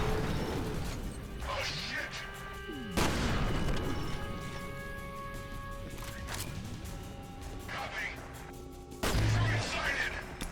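Heavy shotgun blasts and grenade launcher fire in the shooter game F.E.A.R. Perseus Mandate: sharp, loud reports at the start, near three seconds and near nine seconds, with game noise and mechanical clatter ringing between them.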